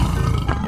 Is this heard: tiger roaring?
yes